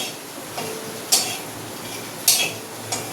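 Spoon scraping and clinking against a cooking pot while meat curry is stirred, a few sharp metallic knocks spaced out over a soft simmering background.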